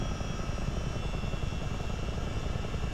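A Chinook CH-47 helicopter in flight gives a constant, heavy rotor and engine drone with a low throbbing beat, steady throughout with no voices.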